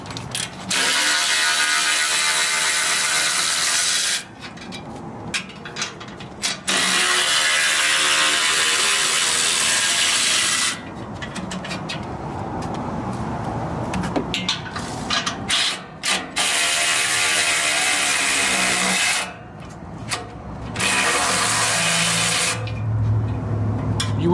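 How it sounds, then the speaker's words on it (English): A ratchet backs off 14 mm nuts on an off-road bumper crossbar during a truck bumper install. Quick, close clicking comes in long bursts separated by short pauses. "we're gonna use a 14 millimeter. Remove these 6 nuts right here."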